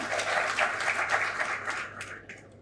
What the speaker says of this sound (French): en la personne de Mme Nyanya Sissé, que vous devrez applaudir.